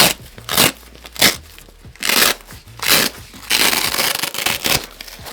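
Velcro on a tactical backpack pocket being pulled apart, several harsh ripping bursts in quick succession, the last one longer and rougher, close and loud with no talk.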